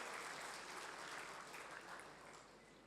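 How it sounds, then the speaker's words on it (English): Faint, steady applause from an audience at a member's meet for a guest speaker, a continuous wash of clapping heard from a distance. "Please have a big round of applause for the sir."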